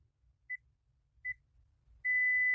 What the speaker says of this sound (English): you hear a beep